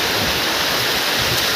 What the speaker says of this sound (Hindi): यहाँ झरना उधर बह रहा है